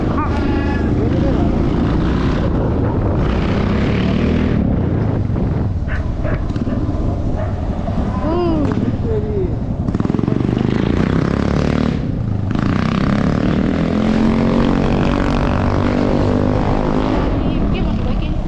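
A motorcycle engine running loud and close, a rough steady drone with revving swells, heard under ongoing talk from several people.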